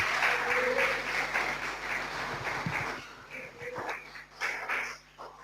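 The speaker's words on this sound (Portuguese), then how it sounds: "Dê para Jesus uma salva de palmas." A church congregation claps together in dense, sustained applause that thins and fades over a few seconds, heard up close in a large room.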